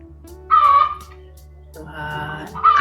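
A chicken calls out in a few loud, harmonic bursts, one near the start and more toward the end, with a steady low hum underneath and little talk.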